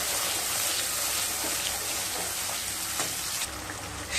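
Spices fry in a pan for a katla fish curry, giving a loud, continuous hiss and sizzle with faint scrapes from stirring, close up and unbroken.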